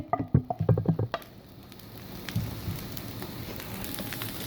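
Dry fruits roasting in a hot pan for a bread halwa, a soft steady sizzle and crackle with a quick run of light tapping clicks at the start, quiet and close with no voices.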